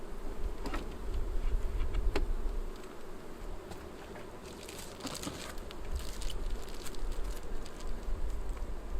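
Honey bees buzz around an open hive while a beekeeper adds a second brood chamber, a dense continuous drone close by with scattered faint clicks and rustles of frames.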